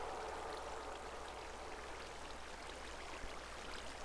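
Steady broadband rush of water flowing down in Minecraft, a continuous even wash like rain or a stream, moderately loud and unchanging throughout, with no talk.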